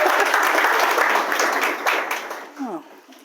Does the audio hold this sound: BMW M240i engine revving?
no